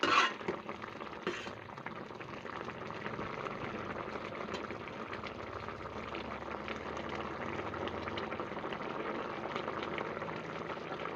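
Mushroom sambar in Malnad village style bubbles and simmers steadily in a pan, a continuous soft boiling wash with a faint clink near the start, no voices.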